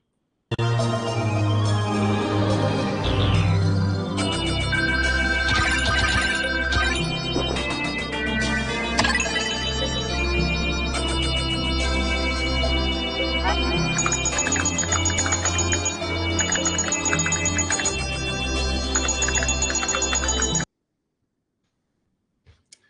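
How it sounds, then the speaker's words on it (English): Computer interface sounds from the Pikmin video game: a busy, continuous run of chimes, beeps, ticks and tonal blips layered over a steady synthetic bed, loud and unbroken for about twenty seconds before stopping abruptly. "the way that they handle all of the computer sounds in the game"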